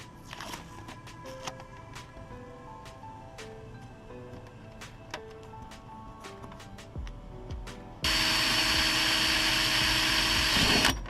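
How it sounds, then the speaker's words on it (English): A power drill starts up loud and whines steadily near the end, drilling into a Hellcat rear diffuser being fitted to a 2005–2010 Dodge Charger, following several seconds of scattered clicks and knocks. "I'm gonna drill it right here."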